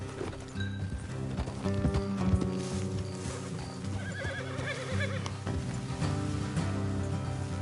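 Horses' hooves clip-clop steadily at a trot in Red Dead Redemption 2, with a horse whinnying partway through, over a continuous background of music and ambience.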